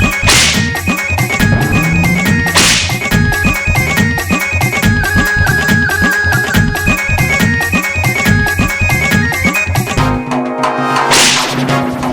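Repeated sharp whip cracks and lashes in a steady, loud rhythm over dense music, with a brief swell near the end; no speech.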